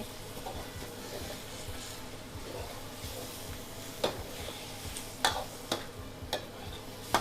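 Wet rice noodles for pad thai are stir-fried in a pan with a steady low sizzle, while sharp clacks and scrapes of a spatula strike the pan in the later seconds.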